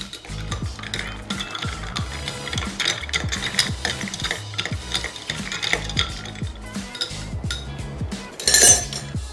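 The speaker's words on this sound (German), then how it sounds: "Kurz umrühren, damit sich die Zutaten gut vermengen." A Tequila Sunrise with orange juice being stirred in a glass: steady rhythmic clinking and scraping of a spoon against glass and ice, continuous throughout with a brighter clatter near the end.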